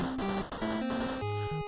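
Background music from the Spelunker video game plays continuously as a bright, steady, tonal melody with sustained notes that shift in pitch.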